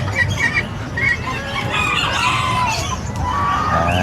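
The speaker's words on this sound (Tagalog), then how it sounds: "At ito yung mga maliliit na manok." Small chickens cluck, squawk and crow continuously, mixed with other fowl at a pets and livestock market in Bocaue. The din is busy and close, with no clear talking.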